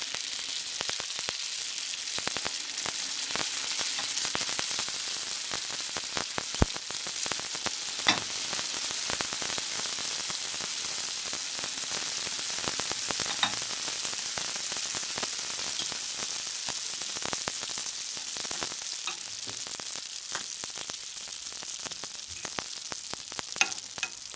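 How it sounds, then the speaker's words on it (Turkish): Pişi dough pieces fry in heated vegetable oil, a steady dense sizzle with crackling pops throughout, close and continuous with no talking. "Hamurlarımızı ısıttığımız sıvı yağda pişirelim."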